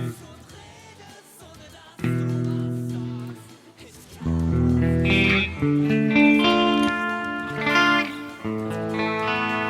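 Clean electric guitar played through a Yamaha THR10X desktop amp, sustained chords and single notes ringing out with a shimmering effect and some reverb, alone and fairly loud.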